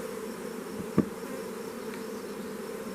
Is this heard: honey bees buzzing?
yes